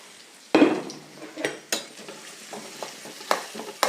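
Shallots, garlic and kanthari chillies frying and being stirred in a pan, with a loud sizzle bursting in as they drop in, then scraping stirs and clinks of a utensil against the pan at irregular intervals, no talk.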